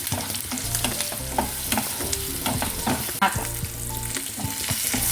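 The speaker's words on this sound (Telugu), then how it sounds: "పసుపు వేసి కొద్దిగా కలిపేసుకుని" A spoon stirs green chillies frying with turmeric in a pan, with steady crackle and repeated scraping strokes, close and fairly loud, no talking.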